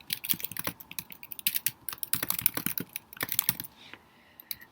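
Rapid clicking of computer keyboard keys in quick uneven bursts, close and clear, with no voices while someone enters an email address into a loan document form.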